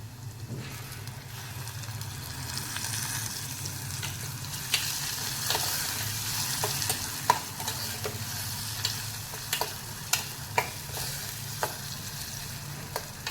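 Tomato and vegetables sauté in a pan for Maharashtrian dill (shepu) bhaji, giving a steady close sizzle with sharp scrapes and clicks of a spoon stirring through it; no one speaks.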